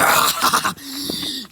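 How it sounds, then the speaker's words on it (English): Dogs sound off close by in a quick burst of whimpering, growly yips, loud and overlapping, followed by a softer, lower stretch of whining. "Hey! Dogs!"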